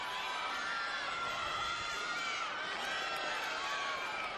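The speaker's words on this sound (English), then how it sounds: "you can see her teammates, hear her teammates cheering her on the sides" Teammates cheering a gymnast on during her bars routine at an NCAA women's gymnastics meet, Auburn at Alabama, a steady distant wash of crowd shouting and high-pitched cheers throughout, with no distinct pauses.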